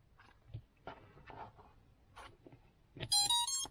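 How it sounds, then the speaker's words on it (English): Scattered clicks and handling noise on an FPV drone, then a quick run of bright electronic motor-connect beep tones from the ESC stepping in pitch at the end, close and fairly loud. "push the button here, and hopefully everything makes a nice sweet motor connect noise"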